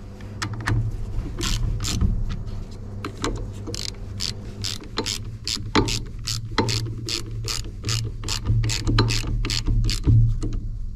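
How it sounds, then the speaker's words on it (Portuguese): A part being turned and tightened onto a machine, a close run of sharp ratcheting clicks in quick irregular bursts over a low steady mechanical hum, with no talking. "Isto encaixa assim direto, roda e a gente aperta."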